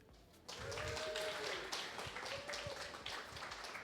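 Applause from a full-house audience at a crypto community event in an art gallery, starting abruptly after a quiet moment and continuing as a steady wash of clapping with a few whoops.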